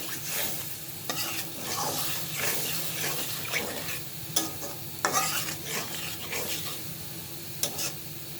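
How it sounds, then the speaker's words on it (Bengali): Spice paste cooked with salt, the base for a drumstick and mustard-paste curry, sizzles steadily in a pan. Scraping stirring strokes repeat throughout, close and fairly loud, with no talk. "পরিমাণ মতো লবণ দিয়ে মশলাটা ভালোভাবে কষিয়ে নিচ্ছি"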